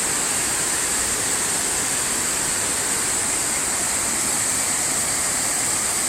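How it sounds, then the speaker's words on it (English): A waterfall in Blakely, Georgia pours as a loud, unbroken broadband roar, steady and close throughout with no talking. "Waterfall."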